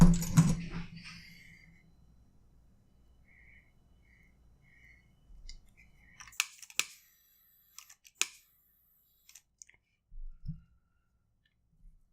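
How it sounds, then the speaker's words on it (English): Scissors cut through nylon cord strands on a zipper stitch cobra knot bracelet, giving a few sharp, close clicks and snips separated by quiet. "with these strands, we could just snip and cinch them where they are"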